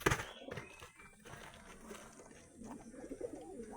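Madras pigeons in a cage give soft, low cooing calls, fairly faint and close, along with light shuffling and other cage noises.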